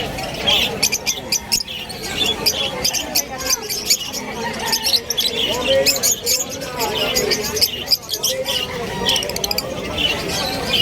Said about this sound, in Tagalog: Yan, may mga ibon dito.